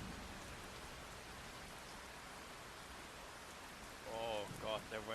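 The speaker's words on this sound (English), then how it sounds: "Oh god, the rain." Steady rain hiss from a game in development, constant through the clip with a voice talking faintly near the end.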